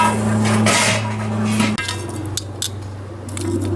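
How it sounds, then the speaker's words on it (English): Hot coals set onto the lid of a Dutch oven while making chili outdoors, giving a few metallic clinks and scrapes over a steady low hum, close by, with no voices. "Then get the rest of your coals and put them on top of the lid."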